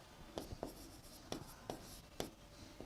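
Chalk or marker strokes on a board during a classroom lesson on Rajasthani ornaments, a series of sharp taps and scratchy strokes in an irregular rhythm, close and clear with no talking.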